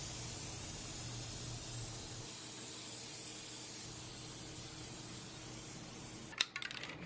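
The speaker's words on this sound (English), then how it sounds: "he's going to spray some paint" An aerosol spray can sprays paint over rust on a Biolite firepit, a long, steady, even hiss that runs unbroken for several seconds and ends with a short metallic clatter.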